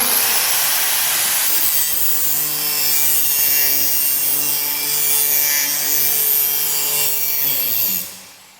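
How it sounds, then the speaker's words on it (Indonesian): An angle grinder smooths a surface, giving a steady, loud motor whine with a rough abrasive hiss. It runs on its own without a break and winds down near the end. "Itu merupakan kegiatan gerinda yang fungsinya sebagai penghalus ya, menghaluskan kan?"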